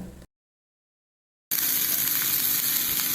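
After a brief silence, loud, steady sizzling of chopped snake gourd frying in a hot pan with curry leaves fills the rest of the clip.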